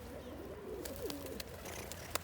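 Pigeons cooing softly in a loft of pale grey, smoky-grey and yellow-spotted fancy flying birds, a few low rolling coos with light background noise and occasional sharp clicks.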